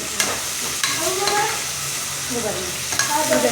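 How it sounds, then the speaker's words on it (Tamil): Onions sautéing in oil for a small-leaf greens dish, a constant close sizzle with a few sharp spatula knocks and scrapes as the pan is stirred, no talking. "நல்லா வதக்குங்க"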